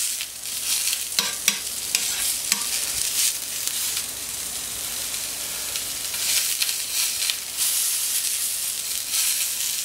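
Suckling lamb shoulder sizzles on a hot plancha, a loud, continuous bright frying hiss with crackles and small pops throughout.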